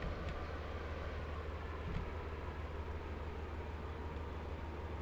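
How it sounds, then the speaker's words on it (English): An express train in the Roblox game Stepford County Railway rolls toward Stepford Central station, with a steady, close rumble of wheels and running gear that holds at an even level throughout. "This train is now approaching Stepford Central."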